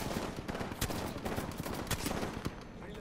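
Bursts of gunfire with sharp individual shots in a shooter video game, close and loud, a steady fusillade over a few seconds.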